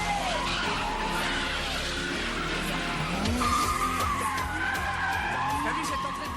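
Tires squeal as an anime race car skids through a corner on a mountain pass, with engine roar and a backing score throughout, and voices talking over it.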